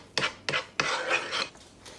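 A spoon scrapes around a bowl of skyr while powdered peanut butter and honey are mixed in, making three quick scraping strokes and then a longer continuous stir, close and moderately loud.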